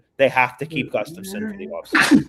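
A sneeze bursts out near the end, loud and close, right after a man's speech during a hockey livestream chat.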